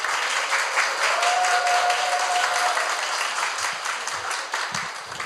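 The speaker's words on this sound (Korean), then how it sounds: "박수." Audience applause at an indoor citizen-journalist writing workshop in Korea, dense, even clapping from a seated crowd that gradually fades toward the end.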